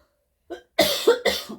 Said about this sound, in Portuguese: Eu tô falando muito, eu tô tossindo.